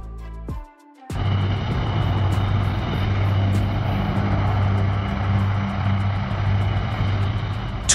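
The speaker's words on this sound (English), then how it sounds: "Tupolev Tu-95, one of the loudest planes ever made with four massive turboprop engines." Steady, loud drone of a Tupolev Tu-95's four turboprop engines with a low, throbbing hum that holds constant for several seconds after a sudden start.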